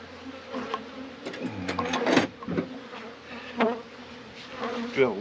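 Honeybees in an opened hive at an outlying bee yard buzz steadily at close range, joined by scraping and clicking as frames are pried apart with a wood chisel.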